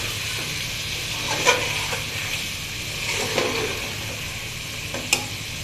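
Pumpkin and shrimp curry simmers and sizzles in a pan under a constant low hiss, while a few brief scraping stirs stand out from the bubbling.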